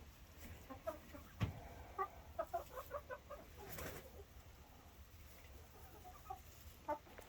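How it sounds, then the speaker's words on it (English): Bantam chickens clucking in short, scattered bursts at a moderate distance, with several quick calls clustered together and a few pauses between them, heard outdoors on a cold, quiet day after freezing rain. "My little bantams just celebrated their 5 years of being here."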